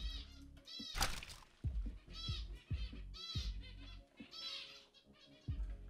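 Indoor pet birds squawk and screech excitedly, with repeated harsh, wavering calls close by, some almost meow-like, rising and falling over a few seconds with brief flutters.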